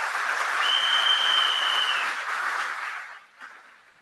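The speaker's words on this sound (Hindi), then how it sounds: "और मैं आप सब लीडर्स के लिए एक जोरदार ताली बजाना चाहूंगा" Loud sustained applause from a large audience at a company leaders' session, many hands clapping together in a full wash that swells, holds, then tapers off, with a faint whistle-like tone riding above it.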